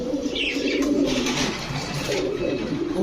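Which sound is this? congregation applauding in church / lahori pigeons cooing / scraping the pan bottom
lahori pigeons cooing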